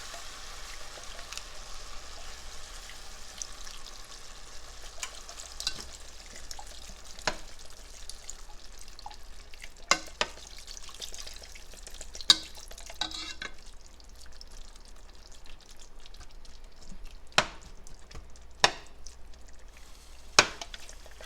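Sausage gnocchi with beef stock being stirred in a pan, a faint wet simmer broken by scattered soft spoon taps and scrapes, quiet and close with no talking.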